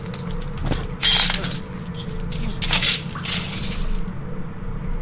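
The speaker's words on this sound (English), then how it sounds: "I just stood on all the glass there" Footsteps crunch over broken glass in the Metro 2033 video game, two distinct crackling bursts of shattering shards against a low steady background hum.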